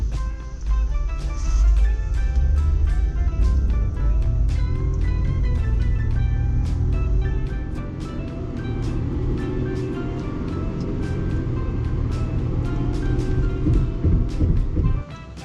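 A Honda City Hatchback with a 1.0 litre turbo engine accelerates hard from 0 to 100 km/h, engine drone loud and steady from inside the car, rising with each gear and dipping briefly at a shift, with repeated short clicks over it.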